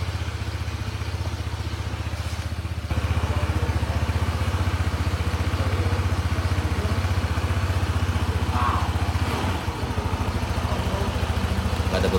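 A Honda PCX 160 scooter engine idles with no load, a steady low rumbling putter that grows slightly louder after a few seconds and then holds even and continuous, close by with no talking.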